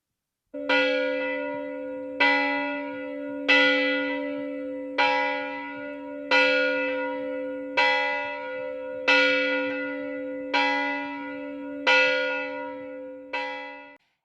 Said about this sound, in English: when that bell began to ring